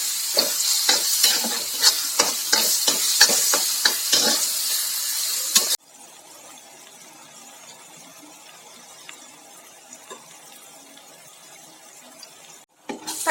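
An onion, tomato and paneer mixture is stirred in a pan for paneer bhurji, giving a run of close, rhythmic scraping strokes over a sizzle for about six seconds, then settling into a quieter steady sizzle.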